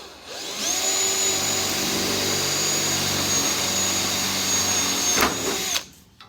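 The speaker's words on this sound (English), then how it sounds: "Oh my God, my drill bit just broke off." A power drill whines at a steady high pitch for several seconds close up, drilling a rivet hole in metal on a Buick, then sputters and abruptly stops as the bit breaks off.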